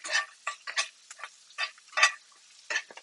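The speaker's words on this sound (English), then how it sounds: "Mix the mushrooms around a little bit." Mushrooms stirred in a hot buttered pan with salt and pepper, giving a run of short scraping, sizzling bursts roughly every half second, close and moderately loud.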